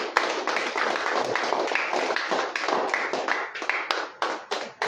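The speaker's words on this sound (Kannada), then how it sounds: "ಚಪ್ಪಾಳೆ ಬರಲಿ." An audience at a KRS party event announcing its election candidates claps for a ward candidate. The sharp individual claps are moderately close and form an uneven patter that thins out near the end.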